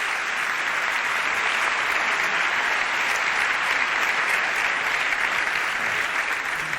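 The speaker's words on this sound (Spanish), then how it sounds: "un aplauso, ¿no?, para la gente que tuvimos detrás de la barra" Dense, steady applause from a crowd at a concert for the Asturian language, a continuous wash of many hands clapping at even loudness throughout, with no voices standing out.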